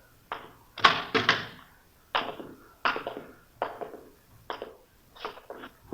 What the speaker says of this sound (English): You want to open the door?